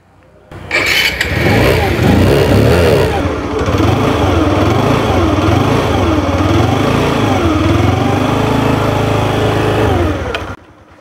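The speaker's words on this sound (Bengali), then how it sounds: "আমরা গাড়ির সাউন্ডটা একটু শোনানোর চেষ্টা করতেছি।" A motorbike engine starts and idles steadily, loud and close, with a rough, throbbing low rumble that holds for about ten seconds before cutting off.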